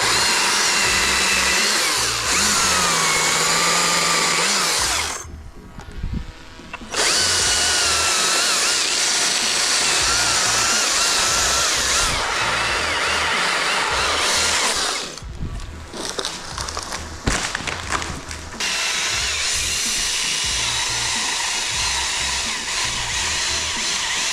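Battery top handle chainsaws, a Stihl MSA 220 T and a Husqvarna T542i XPG, cutting wood with loud sustained whining runs broken by brief pauses, near and dominant throughout.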